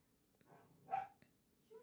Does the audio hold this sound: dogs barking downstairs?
yes